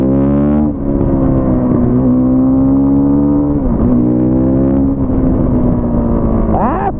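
A Husqvarna WR510 motorcycle engine on a test ride pulls loud and close, its note climbing steadily through each gear with three brief dips at the shifts, running continuously with no voices.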